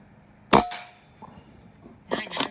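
A BSA Scorpion SE Tactical .177 regulated air rifle fires two sharp, loud cracks about a second and a half apart, with quiet room noise between them.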